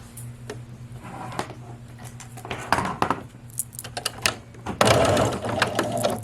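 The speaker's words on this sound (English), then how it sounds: "Lower my needle, start with the back stitch." A sewing machine back-stitches along the hem edge of a self-lined, double-layer dress. The motor hums steadily under rapid needle clatter, which swells into louder bursts of stitching near at hand, with no talk.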